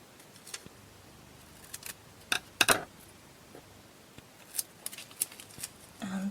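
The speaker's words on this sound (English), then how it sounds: "I'm going to cut an edge on it first." Scissors cutting recycled plastic wallet material, a few sharp close snips and crisp clicks scattered through a quiet room, with light handling rustle at the end.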